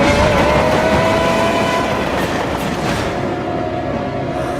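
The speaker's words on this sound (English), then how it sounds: "There's a ghost train ahead!" A train rumbles past in a cartoon about a ghost train, a loud steady rolling roar with a sustained whistle-like tone and clattering wheels, gradually easing off toward the end, no talking.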